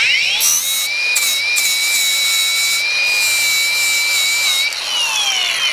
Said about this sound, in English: Never mentioned how awesome a battery-powered angle grinder is.